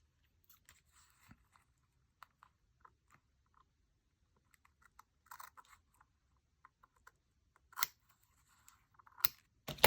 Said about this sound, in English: And then I'll cut the excess off.